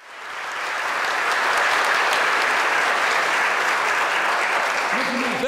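A church congregation breaks into applause that swells within a second and holds as a dense, steady roar, with a voice starting up faintly at the very end.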